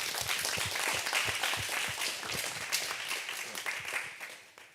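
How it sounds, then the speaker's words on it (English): Event audience applauding together, a dense steady wash of many hands clapping at moderate distance, sustained throughout before tapering slightly at the end. "Let's give them a little clap."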